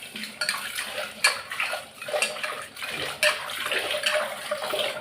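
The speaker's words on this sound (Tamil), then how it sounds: "கொஞ்சம் தண்ணி கலந்து ஊற்றிப்போம்." Water poured and stirred into an egg gravy in a pot while cooking lunch: splashing and pouring with sharp metal clinks of a utensil against the vessel, close and fairly quiet, with irregular taps throughout.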